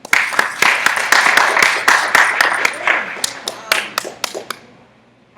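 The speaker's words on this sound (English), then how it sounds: "Give a wonderful round of applause." An audience applauds a speaker at a spiritual academy gathering, with sharp clapping that is brisk at first and then thins to scattered claps before fading out.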